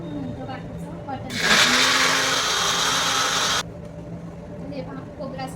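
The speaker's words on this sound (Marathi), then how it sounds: "आधी आता खोबरं आहे ते पहिलं फिरवून घेते, मग ते बारीक झाल्यानंतर नंतर बाकीचं वाटण." A mixer grinder whirs loudly as it grinds coconut for a spice paste, a steady roar lasting a couple of seconds before cutting off abruptly, with quieter room sounds and a voice around it.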